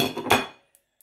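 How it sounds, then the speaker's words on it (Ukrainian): A long-handled spoon stirs food in a cooking pot, giving a dense half-second of metallic clinking and scraping, then two faint, isolated taps against the pot. "Мені подобається перемішувати такою довгою ложкою з довгою ручкою"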